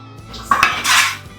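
Onions tipped into a cooking pot for a cheap soup, a brief clatter of utensil against metal followed by a short burst of rustling and hissing as they land, loud and close.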